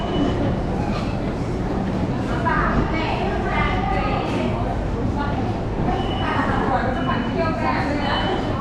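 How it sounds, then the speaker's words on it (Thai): Continuous rumble of a train rolling on rails in Switzerland, heard from inside a carriage, steady and close, with people talking over the noise throughout. "ตอนนี้ก็มานั่งรถไฟมาถึง สุริกนะ"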